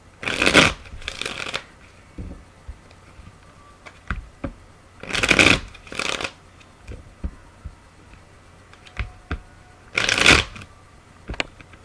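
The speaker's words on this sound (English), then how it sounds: "Or I look for a certain card as I shuffle" Tarot cards are shuffled in three loud bursts of riffling, separated by quieter taps and clicks of handling the deck.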